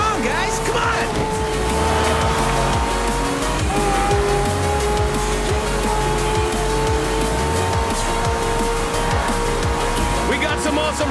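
Race cars and trucks roar through a street race in the TrackMania video game, with engine notes rising and falling and tires squealing in skids, loud and continuous for the whole stretch, while a voice talks over part of it.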